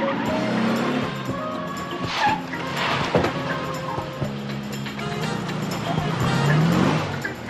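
A Hot Wheels toy car is pushed off in a chase, with a rising, whining engine-like drone that swells toward the end. A voice seems to imitate the motor, and there are scattered small clatters and faint background voices.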